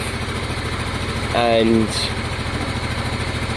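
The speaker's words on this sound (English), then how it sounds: "What I'm going to do is let the bike kind of warm up and stuff" A Honda Deauville motorcycle engine idles steadily while warming up after a carburettor clean, a continuous low throbbing hum throughout, with a brief tonal whine rising above it midway and a short spoken word.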